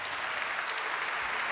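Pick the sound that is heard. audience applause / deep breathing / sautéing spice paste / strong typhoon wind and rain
audience applause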